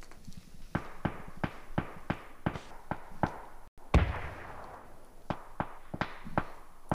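Gunfire in a PUBG esports match: sharp single shots crack at a steady irregular pace, a louder burst near the middle, heard without commentary over them.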